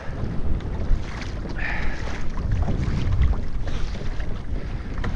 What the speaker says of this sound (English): this wind is picking up, which it wasn't forecasted to, but it's got to be blowing at least like 10 to 12 right now